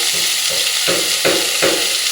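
Potatoes sizzling in hot oil with salt and turmeric while a spatula stirs them in steady scrapes, roughly four strokes over a constant frying hiss, close and loud.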